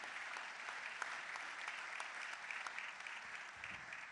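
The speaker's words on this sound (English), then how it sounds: "give them all a big round of applause for participating in tonight's forum." Audience applause fills a mayoral forum hall, a steady, moderately faint patter of many clapping hands lasting the whole few seconds, with no talking over it.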